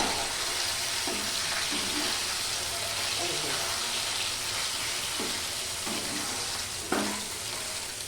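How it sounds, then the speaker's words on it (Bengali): Chital fish dumplings (muitha) frying lightly in hot oil give off a steady, close sizzle and bubbling, with a voice talking over it now and then. "খুব কড়া করে ভাজবো না, তেলের মধ্যে অল্প একটু ভেজে উঠিয়ে নেব।"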